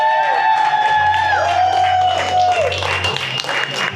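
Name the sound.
audience applause for tiki bar staff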